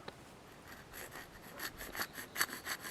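Quiet rhythmic rasping of a hand saw cutting through bamboo to make a kazoo, short back-and-forth strokes growing slightly louder, close up with no talking.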